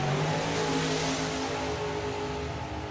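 A blown, alcohol-fuelled Chevelle Malibu drag car roars down the strip at Bug Jam, a loud, sustained engine howl filling the full stretch with steady harmonics and no voices.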